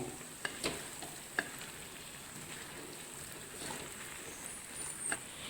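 Potato masala sizzles in a pan while being stirred, with a steady frying hiss and a few sharp scraping clicks of the spoon, fairly quiet and close with no talking.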